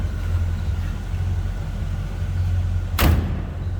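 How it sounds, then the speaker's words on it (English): A single solid door slam from a 1966 Chevrolet Impala convertible lands near the end, a short thump over a low steady background rumble. "Door closes nicely."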